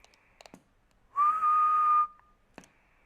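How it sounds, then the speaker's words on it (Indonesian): A steady, pure whistle tone from an Icom IC-M700 SSB marine radio transmitting at 170 watts holds for about a second, loud and close, with brief clicks and radio crackle before and after. "di video ini akan sering terdengar siulan karena ini SSB"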